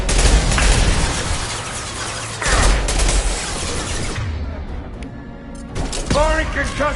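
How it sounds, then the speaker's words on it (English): A concussive shot and rapid gunfire burst out in a Mass Effect firefight, heavy blasts and crackling volleys close and loud, easing briefly before another sharp flurry of shots hits near the end. "Firing concussive shot!"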